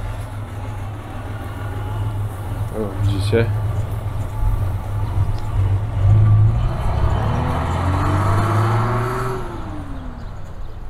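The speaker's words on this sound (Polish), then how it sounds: "Ale turbina zaczyna być słychać, czyli to jest już dobry znak" Star 266 truck engine idling and lightly revving outdoors, a low steady diesel rumble with a faint rising turbocharger whine building later; someone speaks briefly early on.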